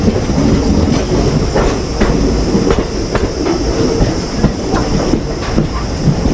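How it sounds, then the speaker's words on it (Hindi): A passenger train pulls into a station, rhythmic clickety-clack from the wheels, a steady rumble and faint high squeal, heard from on board. "अपनी ट्रेन अभी एंटर कर रही है इंडिया के सबसे पहले प्राइवेट रेलवे स्टेशन में"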